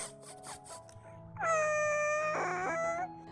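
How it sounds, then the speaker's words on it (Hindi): A small child cries from behind bushes, a loud wailing sob that swells in the second half, with strained, harmonic whimpers and a short break before the wail resumes. "तभी उसे एक छोटे से बच्चे की रोने की आवाज़ आती है"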